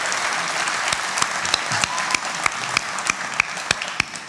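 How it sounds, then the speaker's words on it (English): A live podcast audience at a TT racing event applauds steadily and loudly throughout, a dense wash of clapping with occasional cheers and sharper individual claps rising above the crowd. "I'm just glad everybody cheered"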